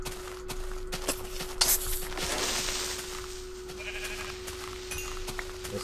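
A sheep bleats in a Minecraft-style block video game, with several wavering bleats over a steady background hum, moderately loud and heard alone without talk.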